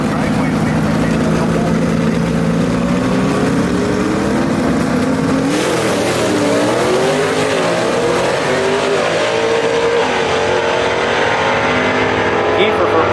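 A 1956 Pontiac Chieftain wagon gasser drag racing at Shadyside Dragway, its engine roaring loud and steady as it pulls down the strip, with a commentator talking over the noise.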